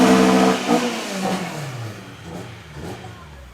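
A Honda B20 VTEC engine in a drag-racing car revs and then drops away, its pitch falling as the vehicle pulls off, fading over a few seconds.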